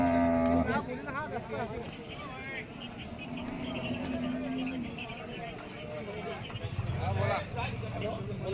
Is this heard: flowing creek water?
no